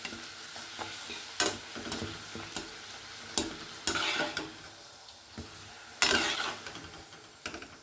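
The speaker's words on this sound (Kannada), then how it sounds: "ಪೂರಿ ಚೆನ್ನಾಗಿ ಉಬ್ಬಿ ಬರ್ತಾ ಇದೆ" Poori puffing up in hot oil gives a quiet, steady sizzle, broken by several sharp scraping and splashing bursts as the dough is stirred and pressed in the pan.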